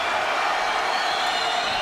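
French arena crowd at a GLORY kickboxing final in Lyon roaring and cheering, a loud, continuous wall of voices with whoops mixed in, sustained throughout.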